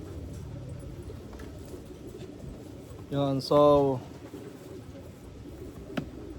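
Pet pigeons coo softly in the background at a backyard aviary in the USA, a low steady murmur running beneath a short burst of nearby talking.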